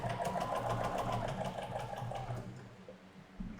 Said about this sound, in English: instead of stitching two sets of half square triangles, we are stitching right down diagonal.